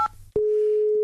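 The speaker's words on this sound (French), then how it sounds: "Ok Brigitte, j'appelle Pierre Arditi." A brief two-tone beep gives way to a steady, loud telephone tone, heard close and on its own as a phone call is placed.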